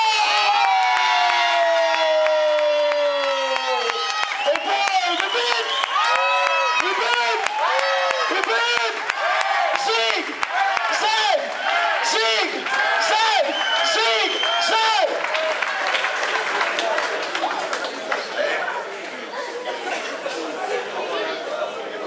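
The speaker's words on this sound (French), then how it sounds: "Et les applaudissements." A dense crowd at a motor rally in Arzacq cheers, whoops and chatters loudly and continuously, with excited shouting throughout and clapping mixed into the roar.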